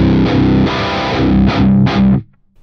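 Heavily distorted electric guitar through a warm amp sim plugin, aimed at a high-gain modern metal tone: a chugging riff of thick palm-muted chords with a few sharper accents, loud and close, cutting off abruptly near the end.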